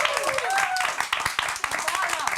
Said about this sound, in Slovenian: Lep aplavz za gospoda Žerjala